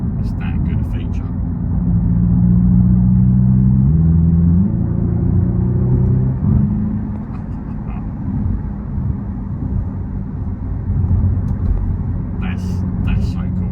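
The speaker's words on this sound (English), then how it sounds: "It almost makes you want to slow down on purpose, just so you can accelerate again and hear the noises." Hyundai Ioniq 5 N electric car playing its synthetic engine-like sound while accelerating, a low droning note that climbs in stepped, gear-like shifts, heard steadily from inside the cabin beneath a voice.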